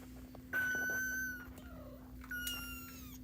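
Kittens meowing close by in a home setting, two separate high, drawn-out meows with a pause between, over a faint steady background hum.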